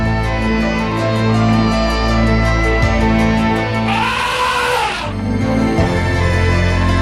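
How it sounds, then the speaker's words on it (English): An elephant trumpets in a brief blaring burst partway through, standing out against a dense, steady musical bed that runs throughout. "That's the sound of an elephant."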